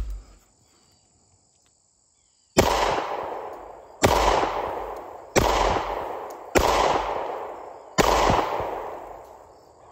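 Five sharp, loud pistol shots from a Springfield XDS Mod 2 .45ACP, spaced roughly a second and a half apart, each trailing off in a short outdoor echo after a quiet start.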